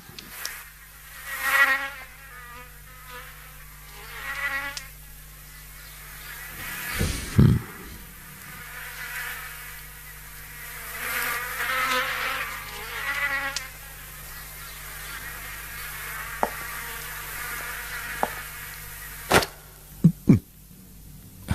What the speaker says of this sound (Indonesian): Nyamuk, Pak.